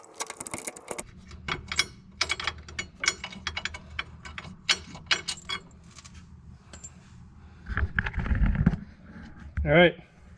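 A 17 mm ratcheting wrench works on a Nissan 240SX S14 wheel hub, making close, irregular metallic clicks with a few rattling clunks near the end, with no talking.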